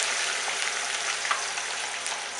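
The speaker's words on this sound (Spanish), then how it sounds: "Entonces ponemos las patatas a fuego fuerte" Potatoes frying in a hot pan over high heat give a dense, steady sizzle that hisses on without pause, loud and close with no talking.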